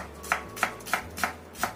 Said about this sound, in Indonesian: aku pakaikan 2 siung bawang putih dan 2 butir bawang merah. Ini kita iris halus saja.